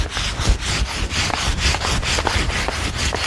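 A wooden staircase being hand-sanded along the grain, with steady rhythmic back-and-forth scraping strokes, close and fairly loud, with no talking.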